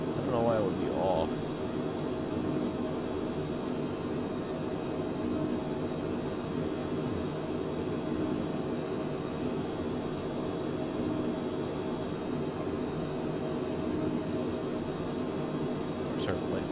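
Steady cockpit hum of a Cessna C510 Citation Mustang jet in a flight simulator, flying from San Francisco toward Los Angeles, a constant broadband engine and air noise throughout with faint brief clicks near the start.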